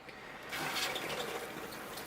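Fresh rainwater poured onto a potted tiger aloe bonsai, a soft, close splashing and trickling into the soil that starts after a brief pause and continues quietly.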